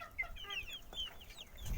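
Domestic chickens cluck and chatter in quick, overlapping high calls close by, with a low rustle rising at the end.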